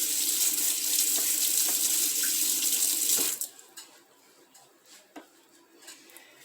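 Something being washed under a running kitchen tap before canning tomatoes: a steady loud rush of water for about three seconds, then the flow stops and a few faint drips and clicks follow.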